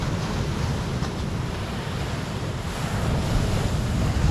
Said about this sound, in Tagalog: Di makapaligo kasi napakalakas ng alon